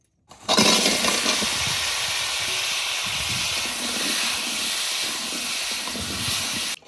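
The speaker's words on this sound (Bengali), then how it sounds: "এবার মাছ ভাজার তেলে আলুগুলো ভেজে নেব" Thick-cut new potatoes sizzle in oil left over from frying katla fish, a loud, steady hiss that starts abruptly and holds evenly throughout.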